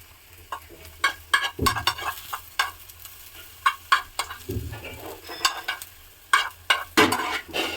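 Hot oil tempering with greens poured into a home-cooked curry, crackling and sizzling in repeated sharp bursts with a few low thuds, close and fairly loud, no talk.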